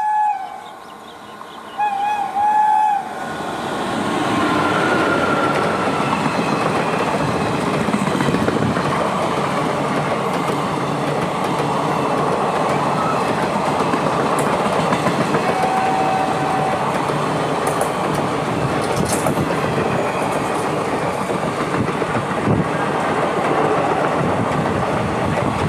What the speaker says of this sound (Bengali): এখন আসছে শিলচর শিয়ালদা কাঞ্চনজঙ্ঘা এক্সপ্রেস।